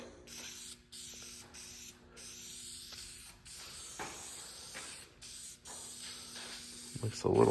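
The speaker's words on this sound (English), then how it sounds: "I'm also gonna see if I can hold the camera and spray at the same time" An aerosol can spray painting a Torque Thrust wheel for a 1965 Mustang: a series of close hissing sprays, about a dozen bursts separated by brief gaps, with a short clatter at the end.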